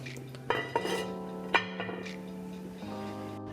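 Clinks and clanks of a metal lid being set partly over a simmering pot of chickpea noodle soup, a few sharp knocks followed by faint rattling over a low background hum.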